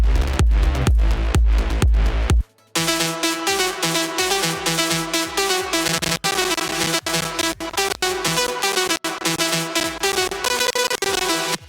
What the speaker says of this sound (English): All our bass layers together sound like this